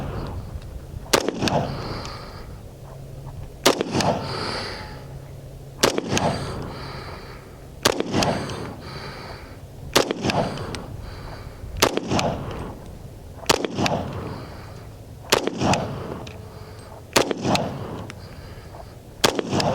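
A Taurus TH40 pistol fires about ten sharp, loud shots at a slow, fairly even pace, each crack followed by a short echoing decay.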